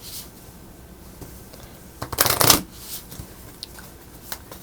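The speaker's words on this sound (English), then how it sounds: "So you just shuffle what's left." Playing cards from a tabletop board game are riffled and shuffled, giving one dense half-second rush of flapping card noise close by, amid quiet table sounds.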